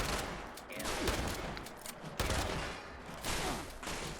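A pump-action shotgun fires repeatedly in Fallout 76, sharp heavy blasts spaced about a second apart amid chaotic combat noise, loud and close.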